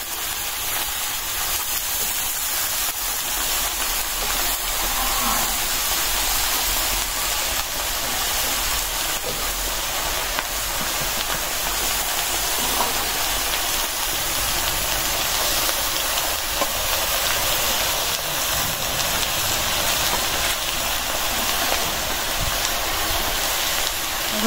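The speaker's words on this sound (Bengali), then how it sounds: "দিয়ে দিলাম খেসারি কলই শাক" Grass pea greens cook in hot oil in a village kitchen pan with fried onion and chili, producing a dense, steady hissing sizzle that holds at an even loudness throughout.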